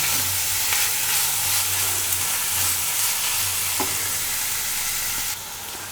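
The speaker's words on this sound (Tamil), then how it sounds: "இப்போ வெங்காயம் நல்லா வதங்கட்டும்." Onions and green chillies sauté in a pan for a vegetable salna, a steady close sizzle and crackle with occasional stirring scrapes, no voices over it.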